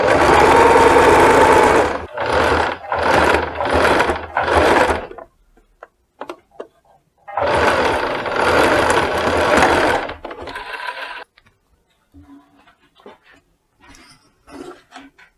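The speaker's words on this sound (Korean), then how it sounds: "핀을 꽂고 박음질을 해줍니다." A sewing machine stitches the seams of an indoor house dress, running in a long loud burst, then four quick pulses, then another sustained run before a few brief stitches taper off into near quiet.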